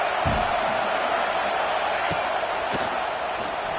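Steady broadband roar of a large college football stadium crowd at an Oregon game, loud and continuous for the whole stretch, with a couple of brief sharp thumps standing out near the start and later.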